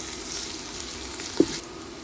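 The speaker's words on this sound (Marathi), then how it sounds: "1 ते 2 टेबल स्पून घालप आणि हे कांदे वांगडा बरें भाजून घेवप." Ginger garlic paste frying with onions in a pan, a soft continuous sizzle with a single brief knock from stirring near the end.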